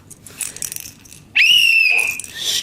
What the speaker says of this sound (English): Now we've got a whistle.